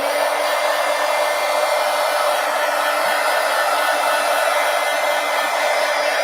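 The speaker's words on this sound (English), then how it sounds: "let's hit this with the heat gun" A heat gun blows steadily on a painted art journal page, a loud continuous whooshing roar of hot air running without pause from start to finish, with no talking.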